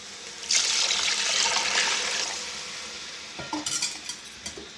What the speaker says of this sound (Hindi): अब इसमें मैं वो पानी ऐड कर दूंगी